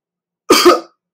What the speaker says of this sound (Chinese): 最后那个缩一下那个声音，那其实就是气流还没完全出来前，他就把自己的声带给关起来